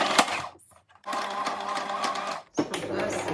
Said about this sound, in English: So now let's stitch.